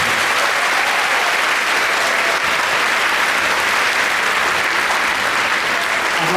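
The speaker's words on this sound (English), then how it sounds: "So let's just have a round of applause for our families." A large graduation audience applauding families, dense sustained clapping filling the hall at full loudness from start to finish with no breaks.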